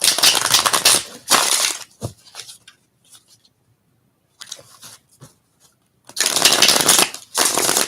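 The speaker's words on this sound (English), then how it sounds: "Give it a couple final shuffles." Tarot cards shuffled in quick riffling bursts, loud and close, with quieter handling and small taps between the bursts; no voices.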